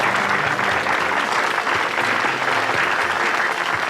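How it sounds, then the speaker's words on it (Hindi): Loud, dense applause from a large audience greeting film stars at a Mumbai event, a steady wall of clapping with no break through the whole stretch. "जोरदार तालियां।"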